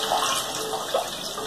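Water pouring steadily in a home kitchen, a continuous splashing wash that runs the whole time without pause, fairly close and alone with no talk.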